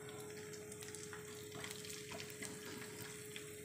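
Tempering seeds and a pinch of asafoetida dropped into two tablespoons of hot oil in a bowl for Andhra-style ulavacharu, making a faint, steady, soft sizzle over a constant low hum, with no speech.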